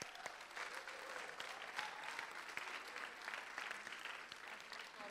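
Audience applause for graduating full-time students at a 2017 graduation ceremony, a steady wash of many hands clapping at moderate distance that holds evenly through the whole stretch.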